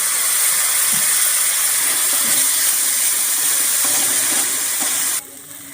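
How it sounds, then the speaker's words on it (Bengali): Spice paste cooking in oil for a village-style pond-fish curry, with water added: a loud, dense sizzling hiss runs steadily and cuts off abruptly near the end. "এবার আমি অল্প সামান্য পরিমাণে জল দিয়ে দেব, দিয়ে আরেকটু ভালোভাবে কষে নেব।"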